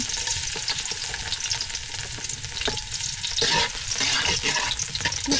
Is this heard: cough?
no